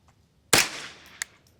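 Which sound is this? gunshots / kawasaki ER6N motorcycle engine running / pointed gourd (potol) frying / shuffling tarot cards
gunshots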